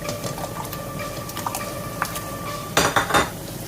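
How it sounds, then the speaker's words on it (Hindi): Cut potato fries are dropped into a pot of boiling water to blanch, giving a few close metallic clinks and splashy clatters of pan and utensil, with a louder burst of clatter near the end. "आलू को फ्राइज में काटा था, इनको हम ब्लांच कर लेंगे। उबलते हुए पानी में डालेंगे।"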